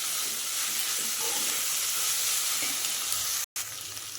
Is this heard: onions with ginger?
yes